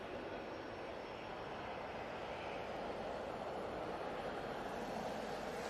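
An EasyJet Airbus A320-200 airliner departs Manchester Airport, its engines a steady, broad, distant roar that stays even throughout, with no voices.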